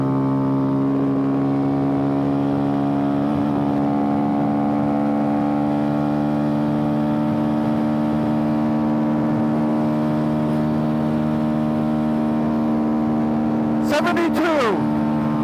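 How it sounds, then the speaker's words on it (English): Honda Grom motorcycle riding downhill at top speed: a steady, loud droning engine tone holds throughout, with a brief rough burst near the end. "this is the good downhill stretch where you can get a top speed ride on a Honda Grom"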